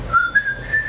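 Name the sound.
person whistling a tune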